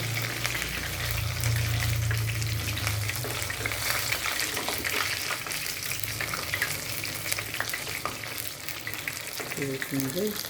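Chicken Joy-style crispy fried chicken crackles loudly in hot oil, a dense continuous sizzle with occasional stirring scrapes and spatters running close and steady throughout.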